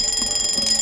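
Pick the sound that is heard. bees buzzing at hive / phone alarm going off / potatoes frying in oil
phone alarm going off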